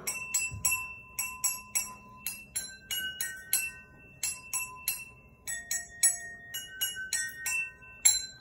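Small bells ringing out the Jingle Bells melody, bright separate strikes in a steady rhythm, close and clear with no talking over them.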